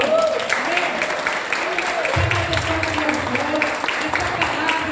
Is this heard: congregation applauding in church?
yes